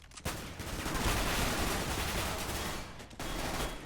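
An AK assault rifle fires in a video game demo, a dense sustained burst of automatic gunfire that runs almost continuously for several seconds with a brief pause near the end, loud and close.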